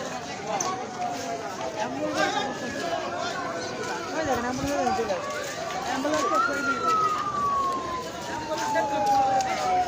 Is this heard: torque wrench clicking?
no